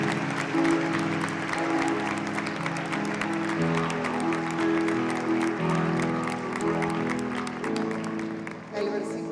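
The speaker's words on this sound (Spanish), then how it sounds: "¿Podemos dar otro aplauso al Señor Jesucristo?" A church congregation claps for Jesus Christ at a Christmas service, sustained applause filling the room for about nine seconds over music with held tones, fading slightly at the end.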